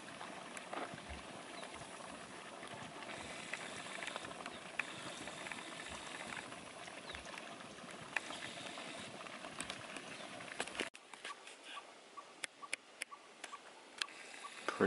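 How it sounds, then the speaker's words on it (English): Continuous bubbling and hissing of a boiling hot spring at Lassen, a dense churning gurgle that drops to quieter pops and splashes near the end. "Boiling and bubbling all over the place over here."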